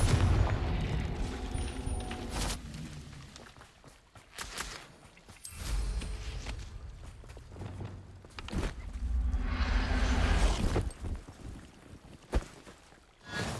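Spell blasts and booms in the video game Hogwarts Legacy, with deep thuds, crackling impacts and rumbling bursts spread irregularly through a noisy, close battle soundscape.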